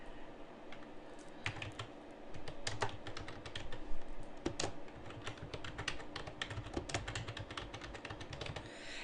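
Someone types number sequences on a computer keyboard, with dense, rapid key clicks in an uneven rhythm close to the mic. No one speaks.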